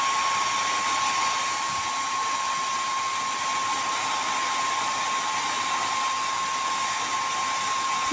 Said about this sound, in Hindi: यहाँ पर मैं आपको हेयर ड्रायर से दिखाऊंगी करके।